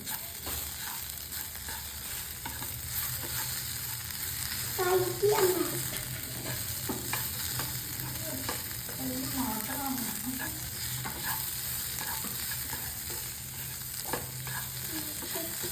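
Spice powders stirred into paneer butter masala in a pan, a continuous soft sizzle with gentle, irregular spoon scrapes running throughout, fairly quiet and with no talk.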